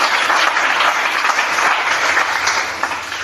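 Congregation applauding in a church during a Sunday worship service, steady dense clapping from many hands filling the room for a few seconds, loud and continuous without speech.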